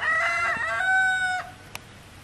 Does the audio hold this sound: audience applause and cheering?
no